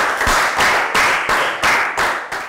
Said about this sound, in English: And round of applause to everyone, guys.